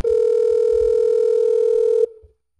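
A loud steady telephone tone drones for about two seconds and then cuts off, leaving faint trailing sound as a call to a Cisco contact-center phone line is placed.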